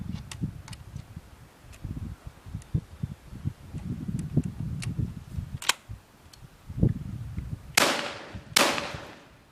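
Artillery fires at Fort Sumter in a Civil War battle scene, with scattered faint cracks and thuds followed by two loud, close booming blasts near the end.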